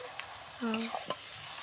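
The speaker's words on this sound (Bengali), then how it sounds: "এইবার একটু নেড়ে চেড়ে নিলাম।" Mutton pieces stirred in a home pan of spiced oil, a few brief scraping and sizzling touches of the spoon over a low steady sizzle.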